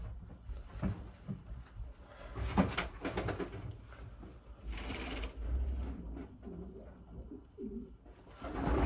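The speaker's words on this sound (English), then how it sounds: "Beautiful little pigeon." A medium-sized young black cock pigeon with white flight feathers coos softly and repeatedly while being handled, with faint rustling and handling noises between the low coos.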